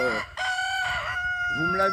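A lone rooster kept with twelve hens lets out a loud, close, drawn-out crow, followed by a rising call from the flock.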